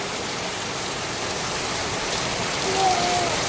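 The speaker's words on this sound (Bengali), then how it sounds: "এই যে সেই অন্ধকারের ফল বৃষ্টি আসতেছে কি পরিমাণ বৃষ্টি দেখেন তো" Heavy rain pours down in a dense, steady hiss that fills the air, loud and unbroken for a few seconds.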